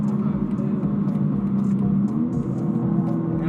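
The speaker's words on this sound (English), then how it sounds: "And I do really like the way this B58 sounds." A BMW M4 Competition xDrive convertible with a B58 engine drones steadily while driving, a continuous low engine hum with road rumble and no voices.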